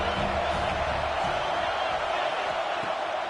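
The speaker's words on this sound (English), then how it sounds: "This crowd rising up, sensing that its defense needs some help." A stadium crowd roars and cheers in a College Football 26 game between Wisconsin and Alabama, a steady broad swell of noise filling the air throughout.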